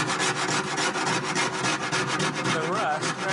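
A sharpened hacksaw blade scraping rust out of the metal of a 1966 Mustang, fast repeated close rasping strokes in a steady rhythm, loud and continuous, with a brief voice toward the end.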